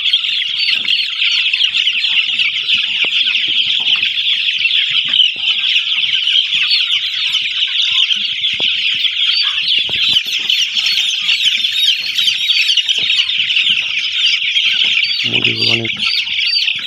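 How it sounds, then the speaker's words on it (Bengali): Sonali chickens on a poultry farm, recently beak-trimmed, keep up a loud, dense chorus of clucking and chirping, with a brief voice and a burst of wing flapping near the end. "মুরগিগুলো অনেক সুস্থ আছে।"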